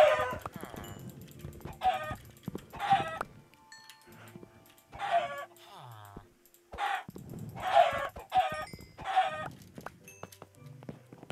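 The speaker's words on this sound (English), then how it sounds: "Punching chickens in Minecraft." Chickens in Minecraft give repeated short clucks and squawks in bursts as they are punched, with quiet clicking game sounds in the gaps.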